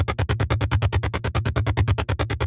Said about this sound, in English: Just a real nice driving bass sound.